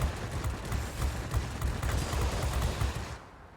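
Rapid bursts of machine-gun fire from a Spitfire Vb fighter in the World of Warplanes aerial combat game, a dense rattling fusillade lasting a few seconds before cutting off abruptly.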